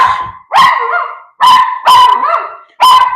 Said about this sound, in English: No, no barking. No barking. No barking.